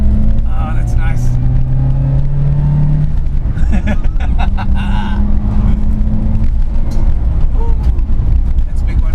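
A classic Datsun car rumbles and bumps over a potholed road, with a loud, continuous engine drone and rattling jolts, while a person talks over it.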